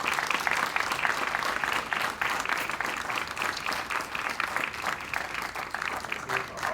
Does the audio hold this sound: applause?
yes